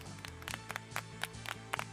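A pinball streamer gives a quiet golf clap, soft single hand claps spaced about every quarter second, faint and close over a low steady electronic hum.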